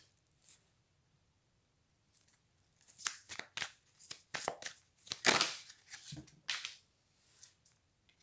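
Cards are shuffled for a card reading, producing a quick run of crisp riffling and snapping bursts after a brief tap and a pause, close and fairly clear with no voice.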